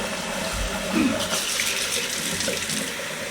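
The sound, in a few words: hot water running from tap down muzzleloader barrel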